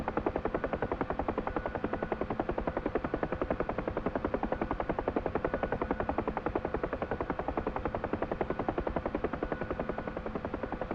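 A helicopter in the DCS flight simulator lifts off with a steady, rapid rotor chop beating evenly and loudly throughout.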